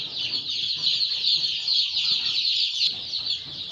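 Local chicken chicks cheep in a dense, continuous high-pitched chorus during vaccination at a poultry farm, many birds calling at once, steady and fairly loud throughout.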